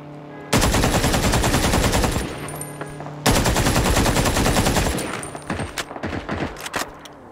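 M4 fire in a video game comes in two long, loud, rapid bursts, each several seconds long. A few scattered single shots follow as the firing tapers off.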